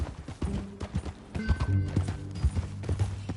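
Horse hooves clip-clop in the Western video game Red Dead Redemption, a moderately quiet, steady ridden gait with a faint whinny mixed in and no talk.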